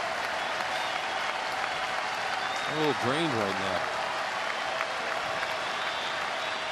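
A crowd at a Red Sox–Phillies baseball game applauds and cheers in a steady roar under a broadcaster's talk.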